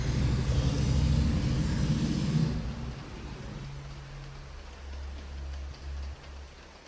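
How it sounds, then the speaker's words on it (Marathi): Heavy monsoon rain pours down in a loud, steady roar for the first few seconds, then eases to a quieter hiss with a low rumble underneath; no one speaks. "आवाज बघा, आवाज केवढा मोठा येतो, म्हणजे खूपच जोराचा पाऊस चालू आहे"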